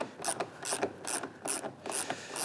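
Hand ratchet loosening 10mm bumper bolts on a 2015-2021 Subaru WRX STI, giving a run of quick, close clicking bursts in an irregular rhythm with no talk over it.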